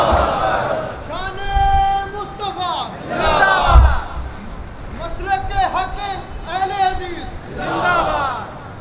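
A large crowd at a religious gathering chants slogans in unison, loud repeated bursts of many voices rising and falling in a slow call-and-response rhythm, with brief pauses between each chant.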